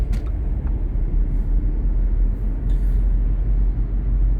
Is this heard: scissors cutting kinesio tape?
no